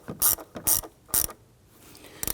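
Ratchet snugging down throttle position sensor screws on a 1999-2004 Jeep Grand Cherokee: three short, loud bursts of rapid pawl clicking, then a pause and a final burst, close up with no talk.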